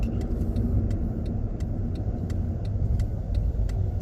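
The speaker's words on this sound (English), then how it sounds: "And there's a school bus now" A school bus rumbles steadily along a street, its engine a continuous close, loud drone with faint regular ticking above, and no voices.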